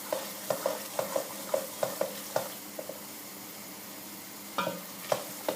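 Tunisian mloukhia frying in hot oil, a steady close sizzle punctuated by repeated stirring scrapes in a loose rhythm, with a short pause before the stirring resumes.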